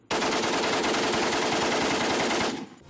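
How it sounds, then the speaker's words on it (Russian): A Maxim machine gun fires one long sustained burst of rapid, loud, closely spaced shots, cutting off abruptly after about two and a half seconds. "В то время это делает пулемет «Максим» мощнейшим оружием"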